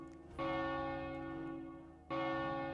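Two loud strokes of a church bell in World of Warcraft: Wrath of the Lich King, the first ringing out and fading before the second strikes, with no voices.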